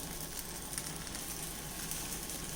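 Dosa batter sizzles steadily in oil on a hot pan, a soft, even frying hiss with faint crackles throughout, no voices.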